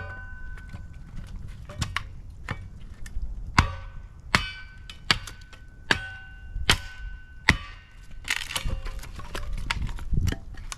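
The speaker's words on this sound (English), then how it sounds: "I basically put the log right in here on the blade, and then you're gonna use a hammer to smack it" A 10-pound sledgehammer smacks a log set on a kindling splitter blade, landing a steady series of sharp, ringing metallic strikes about once a second, close and loud with a faint clang trailing each blow.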